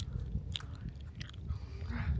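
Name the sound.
chewing a gummy snack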